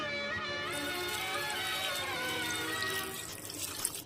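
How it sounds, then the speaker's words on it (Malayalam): Dried anchovies being washed in a sink under running tap water, a steady continuous splashing flow close by, filling and rinsing with no voices. "നന്നായിട്ടൊന്ന് വാഷ് ചെയ്തെടുക്കുക."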